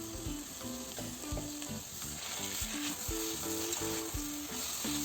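Sliced onion and tomato fry in oil, a constant sizzle beneath clattering, tonal knocks from a spoon or spatula hitting the pan in an uneven rhythm. Nobody talks.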